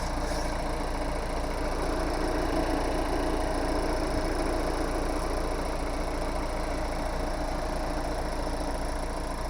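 A Kia Ceed engine idles smoothly and evenly, a steady close-up hum with light vibration that runs unchanged from start to finish, with no voices over it.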